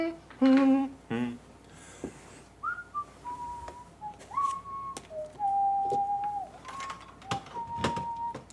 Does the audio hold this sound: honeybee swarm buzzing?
no